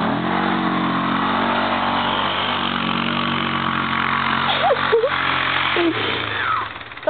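A homemade sled mobile's engine runs steadily as it is driven, a droning mid-pitched motor with rising and falling revs toward the end, while people shout and talk over it.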